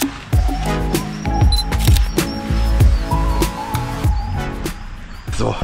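Camera shutter clicks fire in a rapid run of sharp snaps while taking photos, close and crisp, under background music and speech.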